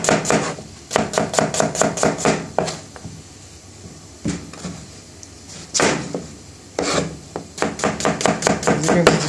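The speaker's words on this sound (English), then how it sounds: "the chef is chopping onions into small pieces" A chef chops onions into small pieces on a board in a British Indian restaurant kitchen, making bursts of rapid, sharp knife taps in quick runs separated by short pauses, close and crisp.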